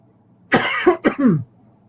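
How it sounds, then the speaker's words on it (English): A single short cough burst with two or three quick hacks, close and fairly loud, in an otherwise quiet room. "Excuse my cough."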